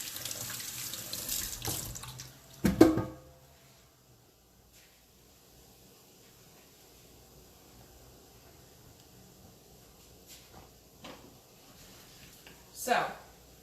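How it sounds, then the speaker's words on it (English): Hands washed under a running kitchen sink tap while cooking keto egg puffs with bacon: a soft steady water stream, with louder splashy bursts near the start and end as hands move under the flow. "I'm going to wash my hands real quick"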